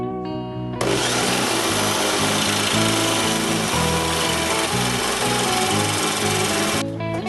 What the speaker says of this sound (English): I next had to drill a hole in them and cut them out roughly with a jigsaw